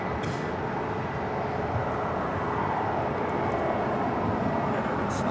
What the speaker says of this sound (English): That was Asiana Airlines with 202 coming in from Seoul